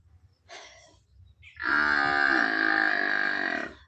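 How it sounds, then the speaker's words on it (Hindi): Buffalo bellowing on seeing its owner: a short low grunt, then a long loud moo lasting about two seconds, heard up close with no talking. "चाची को देख के उनका भैंस चिल्ला रहा है।"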